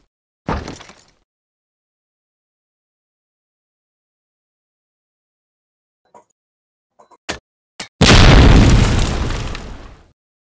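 Grenade blasts in Medal of Honor Allied Assault: a sharp burst early on, then after a quiet stretch a few small cracks and pops leading into a loud, long booming explosion that rumbles and fades out.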